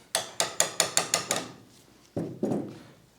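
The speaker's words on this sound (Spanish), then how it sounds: "Con ayuda del martillo posicionamos." A surgical hammer taps to position a femur nail in an operating room: seven evenly spaced metallic strikes in quick succession, a short pause, then two more knocks, close and crisp with no talking.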